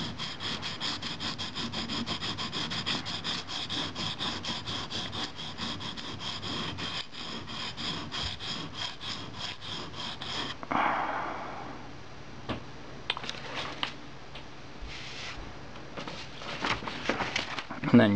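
A steel knife blade rasps back and forth on a sharpening stone to remove a burr, with a dense, rhythmic scraping that continues for about ten seconds, then gives way to sparse scrapes and handling sounds, with someone talking over it.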